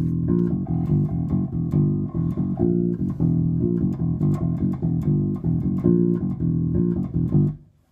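Bass guitar plays a riff, a busy run of plucked notes mixing fretted and open strings, loud and close, stopping abruptly at the end.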